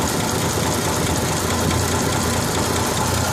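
The straight-six engine of a 1967 truck idles steadily up close, a continuous loud rumble with a faint knocking texture and no pauses.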